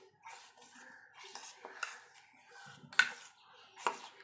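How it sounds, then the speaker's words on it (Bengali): A spoon clinks and scrapes against a metal pot as packaged powdered milk is stirred in to dissolve while making kheer at home, a few quiet, irregular taps and sharper knocks, close by. "এবার আমি গুঁড়ো দুধটা গুলে নেব।"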